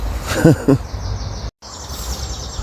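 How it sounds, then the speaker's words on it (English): Birds chirp at sunset on top of an abandoned viaduct, a couple of short, fairly clear tweets early on against steady outdoor wind noise and a faint high insect-like hiss. "Just hearing all these birds tweeting."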